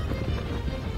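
A horse gallops in the video game Shadow of the Colossus. A brief, steady run of rumbling hoofbeats is heard.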